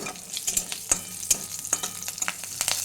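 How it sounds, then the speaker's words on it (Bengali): Green chillies broken in half frying in oil tempered with black cumin for a rohu fish curry with cauliflower, a close steady sizzle with frequent quick stirring clicks and scrapes, no talk. "দুটো কাঁচা লঙ্কা মাঝখান থেকে ভেঙে"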